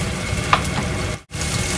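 Chopped onion and garlic sautéing together in a pan until golden brown, a steady close sizzle with a soft stirring scrape partway and a brief drop near the end.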